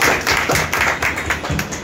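Audience applause at a gathering of journalist leaders celebrating an election win, a dense run of claps that carries evenly through the whole short stretch without a break.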